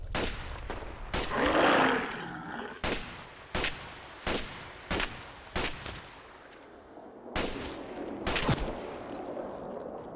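Single-fire gunshots in the video game Fallout 4 ring out one at a time in an uneven rhythm of about a dozen sharp, loud cracks, with a burst of noisy debris near the start and no talking.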